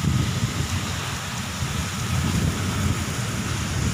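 Dense, steady roar of heavy rain mixed with gusty wind buffeting the microphone, loud and continuous throughout, during a monsoon storm in Udaipur, India.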